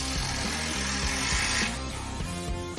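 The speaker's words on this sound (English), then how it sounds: "tighten the U-bolts up." U-bolts are tightened with a power tool on a truck's leaf spring lift, giving a short run of rattling, buzzing impact bursts that sound close and moderately loud.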